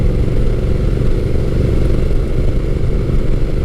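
Honda Rebel 1100 T DCT cruiser motorcycle being ridden, its engine a steady, loud, close drone with a rumbling low end and no breaks, and no talking.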